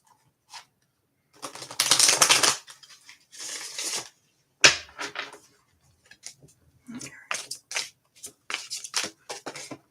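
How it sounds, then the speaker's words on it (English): Tarot and oracle cards being shuffled during a live reading, a series of crisp riffling and sliding bursts, some longer and some quick and clipped, close up and moderately loud with short pauses between them. "Alphonse, let me give these another shuffle"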